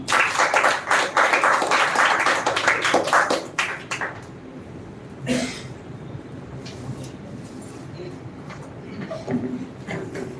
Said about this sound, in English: So clap for Khushbu Pandey.